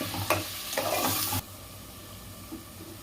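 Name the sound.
onion paste frying and being stirred in hot oil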